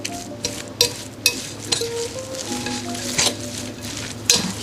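Veggie burger mixture being stirred and mashed in a bowl, with soft wet squelching and a few sharper scrapes and clinks of utensil against the bowl, close and steady, with no talking.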